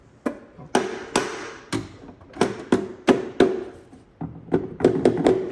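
Soft hammer striking the timing chain guide rail on a Porsche engine, about a dozen sharp separate knocks in irregular pairs and clusters, close and fairly loud with no talking.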